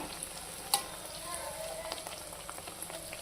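Coconut boorelu, sweet fritters, frying in hot oil at a low flame: a steady soft sizzle and crackle continues throughout, with one brief sharper pop near the start.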